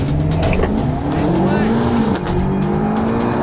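A BMW M8 and an Alfa Romeo Giulia roar and rev hard on a race track as their engines climb in pitch, with a brief tire squeal, loud and continuous.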